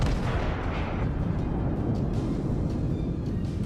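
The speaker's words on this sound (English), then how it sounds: "we'll get another shot away on him" Heavy naval gun salvo from a battleship in the World of Warships video game, a dense booming roar that fills the whole stretch, loud and sustained with a rumbling low tail and no voice over it.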